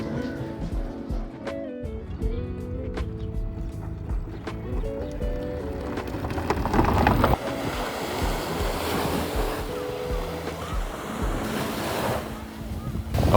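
Surf rolls onto a local beach in Portugal, a continuous close wash of breaking waves with wind buffeting the microphone throughout.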